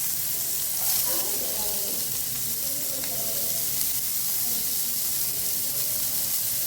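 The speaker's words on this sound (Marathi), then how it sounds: "ते 5 ते 7 मिनिटाचे फ्राय करून घ्यायचे मस्त" Finely chopped onions fry in oil over a cumin and mustard seed tempering for a bitter gourd (karela) dish, making a continuous soft sizzle and hiss with light stirring close by.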